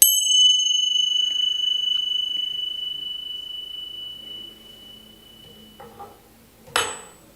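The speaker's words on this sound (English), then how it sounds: "I'm going to sound the chime so that we can remember a vibration" Chime struck once during a church service, a clear, sustained metallic ring that slowly fades out over several seconds in a quiet room, followed by a small clatter near the end.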